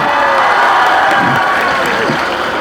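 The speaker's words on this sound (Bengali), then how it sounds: "এইটার জন্য আমি এখন ধরে একটা হাততালি দিতেই পারি" An audience applauds and cheers together, a steady dense clatter of many hands with shouts mixed in, loud and continuous.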